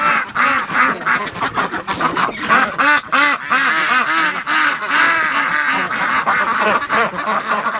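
Several breeding ducks quack loudly and continuously nearby, their raspy calls overlapping in a busy, chattering chorus.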